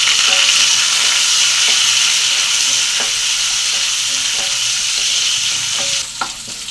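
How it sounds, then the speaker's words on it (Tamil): Sliced shallots and green chillies fry in a pan for a Tamil kara kuzhambu with fresh field beans. They sizzle loudly and continuously, with occasional stirring taps near the end and no talking. "இப்போ சின்ன வெங்காயம் வந்து இந்த அளவுக்கு நல்லா வதங்கிடுச்சுப்பா"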